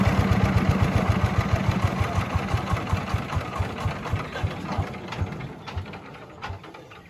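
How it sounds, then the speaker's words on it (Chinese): A walking tractor's engine runs near and loud with a fast, even single-cylinder chug, keeping its regular beat throughout and easing slightly toward the end. "学哥的手扶拖拉机"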